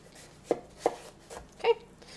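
A knife slices through melon on a cutting board, giving four or five separate close thuds spaced about half a second apart, with no talking.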